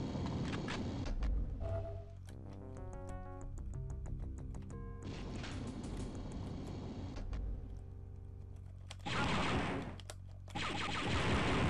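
Rapid blaster gunfire rattles in bursts in the Dark Forces video game as switches are shot, sharp repeated shots with pauses and mechanical game sounds between volleys, loud and up front.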